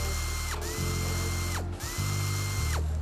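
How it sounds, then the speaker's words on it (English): A ratchet wrench clicks out bolts on the airbox of a 2019-on Hyundai Veloster Turbo, several rapid mechanical ratcheting runs in close succession, loud and near, with no talking. "Remove the airbox by unscrewing these 3 bolts"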